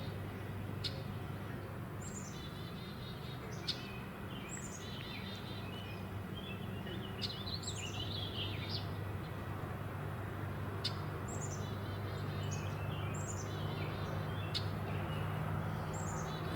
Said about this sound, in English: So it sounds like there are at least 2 chickadees.